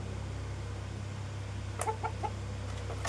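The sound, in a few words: rooster clucking, fighting-cock type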